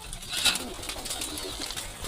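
Soft pigeon coos and bird calls in an enclosed breeding loft over a steady hiss, with a brief louder chirp early on.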